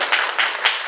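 Audience applause welcoming a speaker at the opening ceremony of a national strategy academic conference, a short steady burst of clapping from a crowd with no talk over it.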